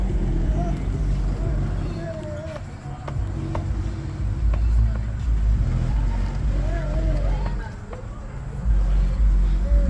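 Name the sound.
city traffic noise in Milwaukee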